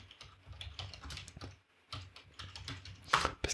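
Close, quiet typing on a computer keyboard: a steady patter of key presses in two runs separated by a brief pause, ending with a sharper louder keystroke or two.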